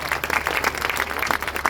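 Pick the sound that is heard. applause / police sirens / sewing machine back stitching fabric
applause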